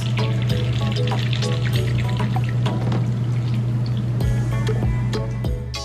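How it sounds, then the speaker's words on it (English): An Italian margarita is poured from a container into a glass of ice, a steady close liquid pour with ice crackling throughout and no talk. "go ahead and pour it over your ice"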